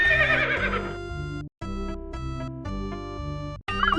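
Horse neighing in an educational Mario video game, a bright whinny near the start followed by sustained synthetic tones with short gaps, loud and alone.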